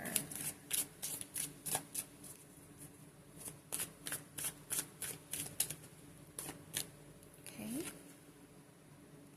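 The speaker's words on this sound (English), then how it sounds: "Go ahead and shuffle the cards one more time" A deck of oracle cards is shuffled by hand, close up. Soft, even riffling flicks repeat in a steady rhythm and then taper off near the end. A brief voice sound breaks in faintly.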